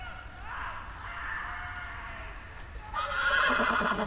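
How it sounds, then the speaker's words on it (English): A spooked horse in the Telltale Game of Thrones video game lets out a long, shrill, wavering neigh that rises in intensity toward the end, loud and close over a windy outdoor ambience. "the horse has gotten spooked"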